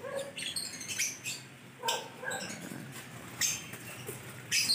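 Caged African lovebirds chirp and squawk in short, sharp bursts, several calls overlapping at close range, with quiet scratching and shuffling between them.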